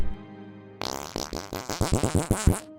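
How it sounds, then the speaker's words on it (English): A comedic fart sound effect opens abruptly after a silent start, then breaks into a long, loud, sputtering series of rapid pulses that grow stronger toward the end, with no talking. "He had to fart real bad, so he did."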